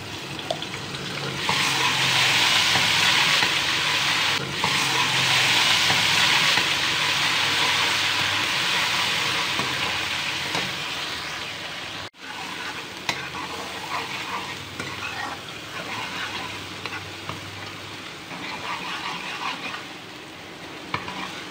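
A tablespoon of ginger garlic paste sizzles loudly in a hot pan while being stirred, with a steady frying hiss and intermittent scraping of the spoon throughout.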